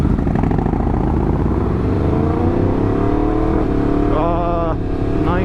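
A motorcycle revs up through its gears near the microphone, rising engine pitch broken by quick shifts, with a louder climbing whine near the end.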